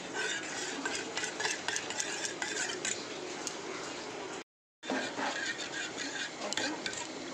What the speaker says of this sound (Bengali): ডিমগুলোকে সব ফাটিয়ে দেখো লবণ দিয়ে আর ঘেঁটে নিচ্ছি